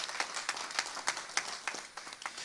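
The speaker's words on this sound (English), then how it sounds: "let's give them a round of applause" Modest applause at a skilled trades task force meeting, a small group clapping fairly quietly with a few distinct louder claps popping out in an uneven rhythm.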